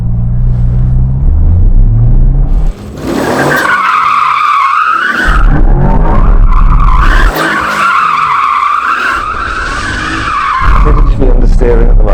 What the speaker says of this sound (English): I need to warm up the tyres first. Traction control off.